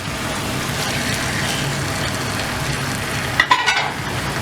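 Prawns frying in masala in a pan, giving a steady, close sizzle throughout, with a few clattering scrapes of stirring near the end.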